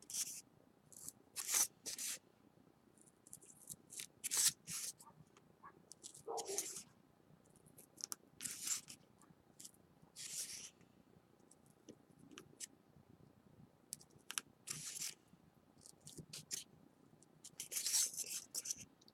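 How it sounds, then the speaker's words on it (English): An X-Acto knife scrapes and slices through craft material to cut out a hole for a model iron grate, heard as close, faint, repeated short scratching strokes in an irregular rhythm against a quiet background. "take my X-Acto knife and I'm going to cut it"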